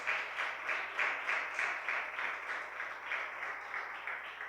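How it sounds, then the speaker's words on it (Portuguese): A church congregation claps in praise during a sermon, a moderate and slightly rhythmic patter of many hands that swells and dips in waves for a few seconds. "Pode aplaudir o Senhor."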